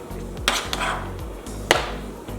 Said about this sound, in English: I cut the fruit in half like you see here, and I used a spoon and I scraped it off